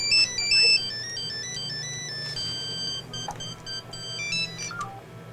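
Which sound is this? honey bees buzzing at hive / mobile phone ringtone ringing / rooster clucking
mobile phone ringtone ringing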